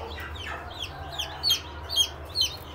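A hen clucks low and steadily while her chicks give several sharp, high peeps that stand out in short bursts near the end.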